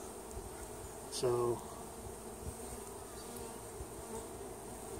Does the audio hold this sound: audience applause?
no